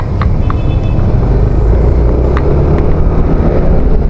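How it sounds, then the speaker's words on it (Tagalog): Steady road traffic on the way to Bayside, a continuous low engine rumble of passing cars with a few faint higher clicks, no talking. "so traffic."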